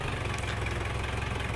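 Steady low tractor engine idling nearby in a cornfield, a continuous even rumble with a faint regular knock, no talk over it.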